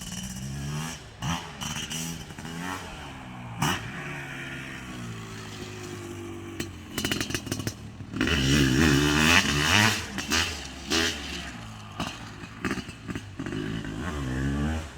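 A pristine 1997 Honda CR500R big-bore two-stroke motocross bike revs hard on a small backyard motocross track. The loud, close engine rises and falls through repeated throttle blips and a longer surge of acceleration.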